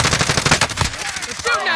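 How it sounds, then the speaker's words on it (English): Rapid automatic gunfire in Call of Duty Warzone, a loud close burst of repeated shots that fill most of the short stretch and thin out toward the end. "They're shooting at me!"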